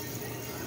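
Steady running water flowing continuously, close by, with no voices.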